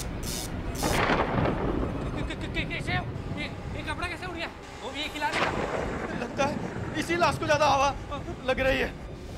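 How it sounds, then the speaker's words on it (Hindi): Thunder rumbles in loud, rolling waves under a stormy sky, with overlapping voices talking throughout and faint rain-like hiss behind. "लेकिन आज तो अपने भी बादल गरज रहे हैं।"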